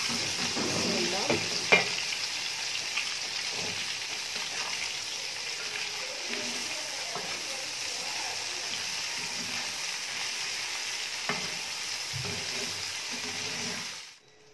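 Beef burger patties sizzle steadily in a hot pan, a continuous close frying hiss with occasional pops and scrapes, fading out abruptly at the end.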